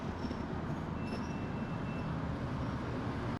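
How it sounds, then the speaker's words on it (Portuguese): A passenger train pulls into a station in the Curitiba area, giving a steady, loud rumble of rolling cars with a faint high squeal of wheels or brakes, continuous throughout and without talk. "Chegou o nosso trem."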